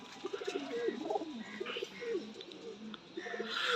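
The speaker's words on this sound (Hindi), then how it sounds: "कैसे हैं कबूतर, माशाल्लाह से बड़े लाजवाब कबूतर हैं" Home-kept flying pigeons at a loft coo softly in repeated rolling phrases, a few birds overlapping nearby, with faint chirps and light background noise between the calls.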